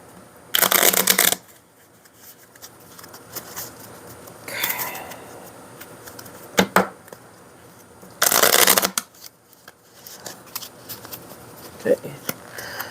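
Playing cards are riffle-shuffled up close, with several loud rapid flutters spaced apart and quieter handling and talk in the gaps.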